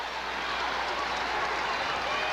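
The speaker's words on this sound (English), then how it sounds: "Now the crowd is into the game." A basketball arena crowd at a Duke versus Iowa game roars with a steady, dense wash of cheering that holds at an even loudness throughout.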